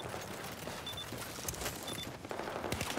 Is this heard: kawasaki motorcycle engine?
no